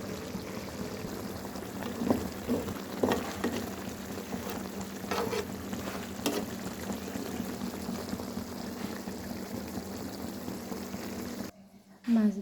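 Fish fries in a pan with a steady, close sizzle and bubbling that runs throughout, broken by a few clinks and a brief dip near the end.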